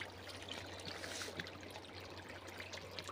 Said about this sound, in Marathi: चालू आहे पाणी.